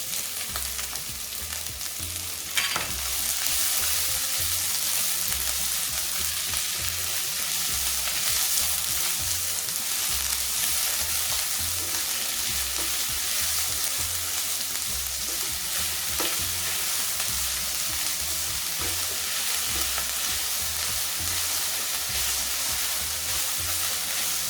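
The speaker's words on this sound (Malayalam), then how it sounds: "ഇനി ചോപ്പ് ചെയ്ത് വെച്ചിരിക്കുന്ന ഒണിയൻ ഇട്ട് കൊടുക്കുക" Chopped onion frying in hot oil for a lamb curry, a steady dense sizzle throughout, with a brief stir or clatter near the start and no talk.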